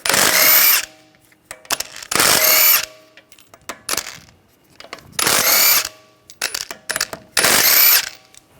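Power tool with a 17mm socket spinning out wheel lug bolts on a 2009-2013 BMW 328i, loud whirring bursts of about a second repeating five times with quieter ratcheting clicks and handling noise between, no talk.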